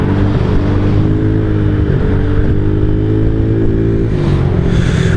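A 2011 Honda Zoomer 50cc scooter engine revs hard at full throttle, a loud, steady buzzing drone that holds its pitch, then dips slightly near the end before picking back up.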